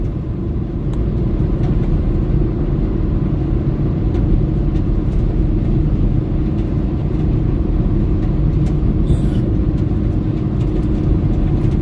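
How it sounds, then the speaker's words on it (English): Steady car traffic on a Los Angeles freeway, a dense continuous low rumble of engines and tire roar heard from inside a vehicle, loud and unbroken, without speech. "this freeway can get completely jam-packed in the morning, bumper to bumper"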